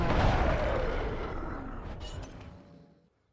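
The Skyhammer cannon in the game Guild Wars 2 fires a single big booming blast that rolls off and decays over a few seconds, with no one talking.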